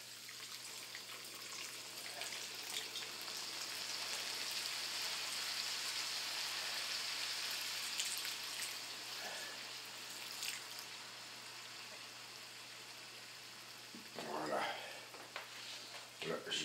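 White wine sizzling as it is poured into a pan of mushroom risotto, a loud, dense hiss and crackle that swells then settles into a steady bubbling, with a few stirring scrapes near the end.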